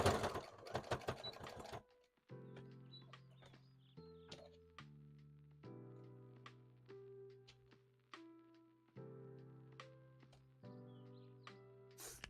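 A sewing machine stitches a felt leaf and stem for a Totoro hat in quiet bursts of rapid mechanical tapping, each run lasting a second or two and separated by brief pauses, with a louder rustle at the start.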